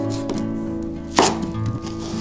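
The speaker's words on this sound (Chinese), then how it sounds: "切洋葱的时候，防止辣眼睛，可以在刀面撒上一些水" A kitchen knife chopping onion, its blade wetted with water: a few distinct cuts, one louder strike in the middle, over steady background music.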